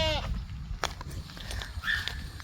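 Goats bleating near an electric-fenced pasture, a couple of short wavering bleats close by over rustling outdoor background noise.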